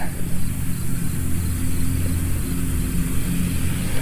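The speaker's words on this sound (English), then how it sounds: "Sorry for the lawnmower noise" A steady mid-pitched lawnmower engine drone runs continuously close by, a constant mechanical hum with no voices over it.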